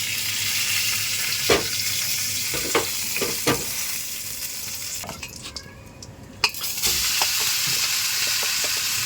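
Chicken frying in a hot pan with leaves already added, a loud continuous sizzle with occasional stirring knocks and clatters, briefly quieter midway before the sizzle returns at full strength.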